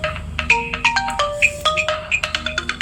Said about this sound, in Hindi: सॉरी, एक मिनट में कॉल आ गई है।